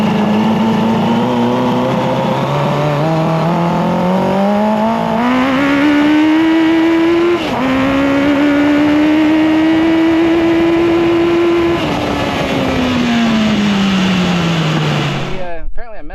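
A Hayabusa-swapped Can-Am X3 revving on flat ground at Glamis, a loud, close engine note that climbs in pitch, wavers, climbs again toward the limiter and then drops away as the throttle is released.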